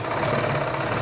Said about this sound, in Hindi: यहाँ पे हमें एक सिलाई इसके ऊपर लगा देनी है